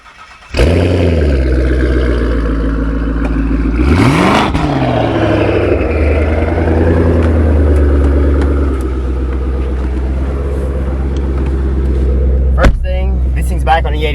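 A 2015 Mustang GT with a twin-turbo kit running 85 fuel, started with a sudden loud burst, then revved in a rising sweep with turbo whine before settling into a deep, steady idle, with a sharp crack near the end.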